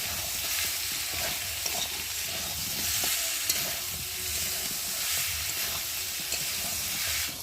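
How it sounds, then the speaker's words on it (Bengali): Boiled soybean chunks are stir-fried with spices in a pan, giving a steady close sizzle with scraping spatula strokes and soft clicks throughout, no voices. "দিয়ে মশলার সাথে একসাথে ভালোভাবে কষিয়ে নেব"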